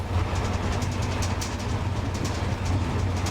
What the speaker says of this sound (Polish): A teraz pokażemy początek jazdy z Weitz po wąskotorowej kolejce z pozycji maszynisty lokomotywy spalinowej.